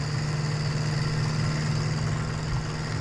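A tractor engine in Farming Simulator 17 runs in a steady, loud, droning idle with a low rumble and a constant whine, unbroken and with no voices over it.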